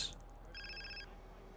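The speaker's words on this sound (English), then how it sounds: "there's that phone call" A mobile phone rings in the video game GTA San Andreas, giving a short electronic ringtone burst over steady game background noise, with no talking.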